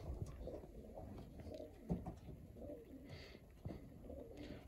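Pigeons coo repeatedly in a racing-pigeon loft, soft rounded calls recurring throughout amid low rustling and background bird noise, with no talk.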